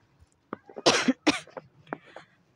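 A person with a lingering cold coughing a few times close by, two strong harsh coughs in the middle framed by softer throat-clearing sounds, in a quiet outdoor setting.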